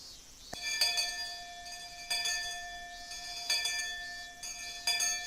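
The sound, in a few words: school bell ringing in Higurashi video game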